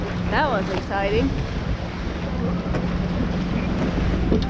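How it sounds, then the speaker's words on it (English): Big ocean waves crash and wash against a sailboat while a large ship passes nearby, a constant roar of water and wind buffeting the microphone, with a brief voice at the start. "Big waves, big ship."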